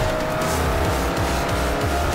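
Engine roar and tire noise from cars racing in Forza Horizon, a steady loud drive with rising and falling engine pitch and no talk.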